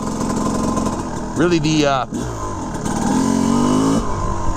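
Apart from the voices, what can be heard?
1988 Honda CR250R motocross bike riding past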